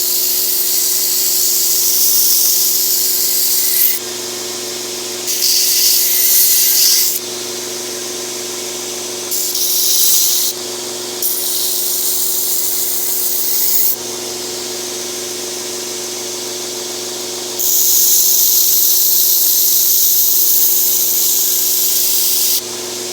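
A belt grinder strips rust from an old saw blade in repeated loud bursts of harsh abrasive hiss, separated by short gaps where only the steady motor hum continues, close up and with no talking.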